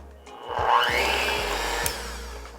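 An electric mixer beats eggs, heavy whipping cream and vanilla extract, a loud steady whir that rises in pitch as it spins up and runs unbroken for a few seconds, close by.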